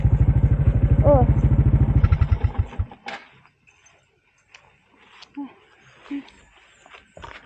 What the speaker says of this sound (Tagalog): Pinapark lang natin muna yung ating motor doon sa bahay ni Jokes.